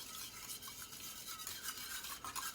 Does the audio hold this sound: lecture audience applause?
no